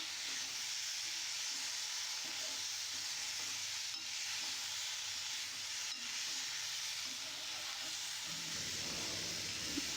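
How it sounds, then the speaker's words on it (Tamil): Brinjal and garlic sautéing in a pan for a Tamil-style poriyal, giving a steady, fairly soft sizzle with faint stirring scrapes throughout, and no talking. "நல்லா வதக்கி விட்டுருங்க."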